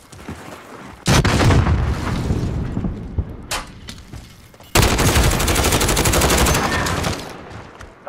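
Loud bursts of automatic gunfire in Call of Duty: Modern Warfare multiplayer, close and heavy. A long rattling burst is followed by scattered single shots and then a second sustained burst, with booming impacts and no talking.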